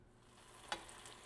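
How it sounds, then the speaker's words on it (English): Pastrami lumpia fry in hot oil with a faint, steady hiss of sizzling and one brief pop partway through, and no voices. "I like the sizzle, the sound of that sizzle a lot more."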